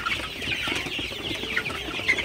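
Sonali super hybrid chickens in a farm shed at night, clucking and softly chattering together in a steady, close flock murmur with no talk.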